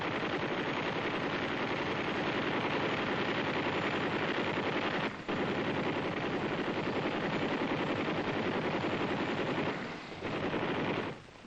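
A helicopter-mounted 7.62 mm XM6 machine gun system fires in long, dense, continuous bursts, loud and harsh, with only brief breaks in the rattling stream of shots.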